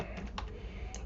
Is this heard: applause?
no